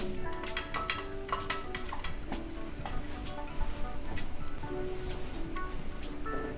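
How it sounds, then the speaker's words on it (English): Pasta gets stirred into a prepared mixture in a bowl, giving a continuous run of wet, clicky scraping and utensil taps close by, with no talking. "we take this pasta and we incorporate it into the mixture that we made here"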